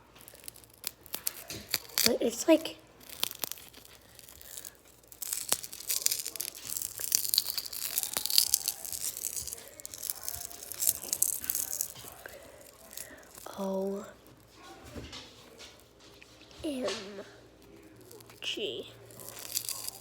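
A fake glass screen protector being ripped apart produces crinkly tearing and crunching bursts spread throughout, close and intermittent, with soft whispery talking in between.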